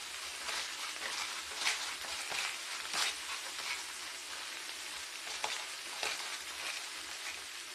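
Samgyeopsal pork belly sizzles and crackles steadily in a pan, seasoned with salt and pepper, a continuous close frying hiss with scattered sharper pops and no talking.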